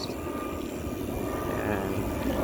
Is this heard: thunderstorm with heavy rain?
no